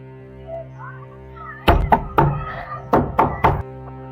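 Knocking on a house door: after a low hum with faint voices, two close, loud thuds, a pause, then three more firm knocks in quick succession.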